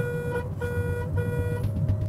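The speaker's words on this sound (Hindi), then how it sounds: "इस गाड़ी में उन्होंने हॉर्न नहीं डाला, उन्होंने एक छोटा सा चूजा डाला है." An MG ZS car horn gives a thin, high-pitched tonal beep, like a small chick, sounding steadily and nearby over low background rumble for about two seconds.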